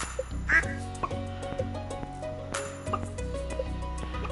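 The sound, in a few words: ducks quacking in Stardew Valley video game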